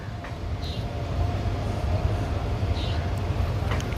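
A train passing at Vijayawada Junction, an Indian Railways station, a steady low rumble of wheels and carriages that swells slightly midway, with occasional faint squeals and clicks and no talk.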